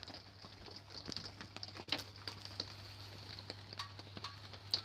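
On a rainy day an overhanging tree drops water onto a camper van roof, giving quiet, scattered taps and ticks at an uneven pace over a low steady hum.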